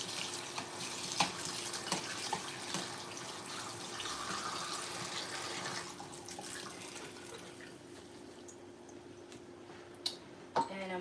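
A kitchen tap runs steadily while a jar of artichokes is rinsed under it to wash off the brine, a continuous close water hiss with a few brief clinks near the end.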